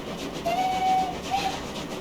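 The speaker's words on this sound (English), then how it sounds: "Whistle doesn't sound bad outside" A BR78 4-6-4T steam locomotive whistle in Train Simulator Classic sounds two short tones, a longer blast then a brief second toot, heard from outside over a steady low rumble.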